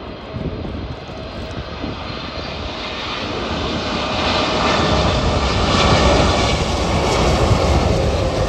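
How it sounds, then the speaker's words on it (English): A huge airplane passes at Miami International Airport, its jet engine roar building from a steady rumble to a louder, fuller peak near the end, close and continuous with no voices. "Okay, here comes a huge plane."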